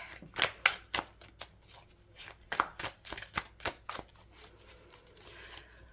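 Rapid crisp tarot-card-shuffling bursts, repeated flutters and taps of stiff cards close up, in uneven rhythmic clusters with brief pauses.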